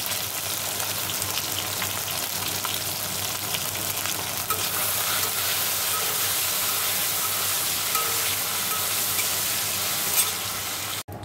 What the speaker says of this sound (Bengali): দেখো আগে আলুটা ভেজে নিচ্ছি, তারপর মাছটা ভাজবো